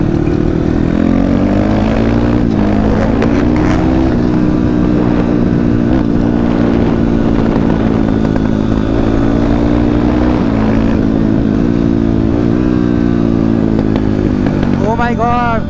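Several motorcycles race on a new dirt track, engines droning loudly and continuously with rising and falling revs as bikes pass near, a sharp high whine near the end, with voices faintly under the roar.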